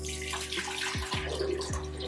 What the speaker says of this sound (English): So the first thing I'm going to do is add water